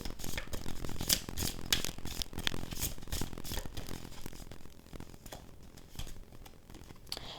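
Unicorn oracle cards being shuffled by hand, a continuous rapid riffling and flicking of card stock with soft rhythmic pats, close and steady throughout.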